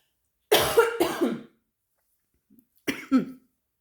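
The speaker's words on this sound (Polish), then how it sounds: "jakiś kaszel mnie chwycił" Two bursts of harsh coughing, a double cough then a pause and another pair, close and loud with no talking.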